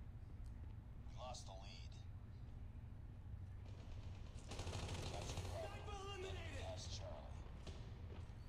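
Gunfire from the video game Call of Duty Mobile: rapid bursts of automatic fire and scattered shots over a constant low game rumble. The shots are faint and mixed, with a busier stretch in the middle, and voices can be heard.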